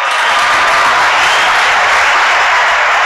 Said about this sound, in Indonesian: tepuk tangan buat orang Labuan Bajo ini